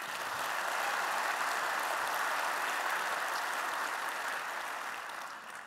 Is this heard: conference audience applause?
yes